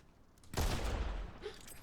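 A single gunshot in the Fortnite video game bursts out suddenly, then a loud rumbling decay lingers for over a second against a faint background.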